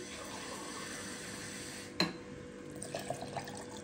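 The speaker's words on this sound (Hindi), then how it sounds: "फिर इसमें हम ये पानी के ना 2 गिलास डाल देते हैं।" A faint trickle of water is poured into cream in a kitchen while making ghee, a quiet steady splashing with a brief sharp knock partway through.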